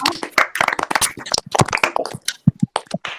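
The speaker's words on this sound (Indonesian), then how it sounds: "tepuk tangan dulu buat kalian semua" Students in a classroom clap in short, uneven bursts of hand claps, close and fairly loud, with scattered sharp claps toward the end.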